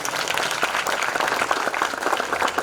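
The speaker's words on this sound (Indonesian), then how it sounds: "Tepuk tangan untuk beliau." Applause for an honoured guest at a ceremony at Darul Hijrah Islamic boarding school, a dense, steady crowd clapping that carries on throughout without pause.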